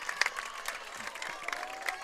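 Spectators applaud at a varsity softball game after a home run: a steady patter of clapping from a crowd at moderate distance, with some louder claps standing out and a faint background murmur.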